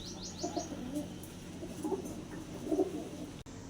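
Domestic pigeons of a Punjabi high-flying breed coo softly in their loft, a few low throaty rolling coos repeating faintly over steady background hiss.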